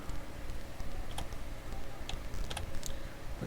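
Keys tapped on a computer keyboard while entering a number into a word-processing program, a few scattered light clicks over a steady background hum, close and fairly quiet, with no talking.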